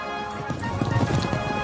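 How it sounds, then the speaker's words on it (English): Horses ridden back toward Philadelphia in a Revolutionary War era cartoon, hooves clip-clopping in a steady rhythm at moderate distance, with a soft layer of background sound running throughout. "We rode back to Philadelphia on horses from the stable of Abigail Adams."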